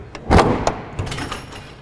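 The aft left-side cargo door of a Cessna SkyCourier aircraft is unlatched and opened, giving a sharp metallic clunk followed by a couple of lighter knocks and rattles, close and brief, with no speech.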